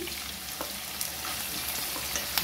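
Liver frying in a pan with hot peppers and garlic, a steady close sizzle with faint scraping and a few soft clicks throughout, no voices.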